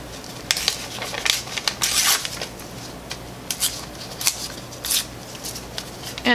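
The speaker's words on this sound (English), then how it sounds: "I'm going to rip my words out and start positioning them" Paper printed with words from antique player music is torn by hand, giving several sharp ripping bursts spaced unevenly, close and fairly quiet.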